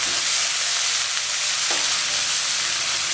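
Chopped small onions hit hot oil for snake gourd kootu, giving a steady, loud, broadband sizzle with a brief stir partway through, close and alone without voices.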